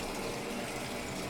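A Speed Queen top-load washer fills with cold rinse water, a steady close rushing gush with a pump-like drone, continuous and even from start to finish with no talking.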